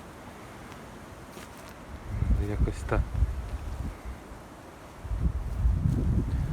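Gusty wind buffets the microphone in low rumbling bursts, with a brief spoken phrase in the middle.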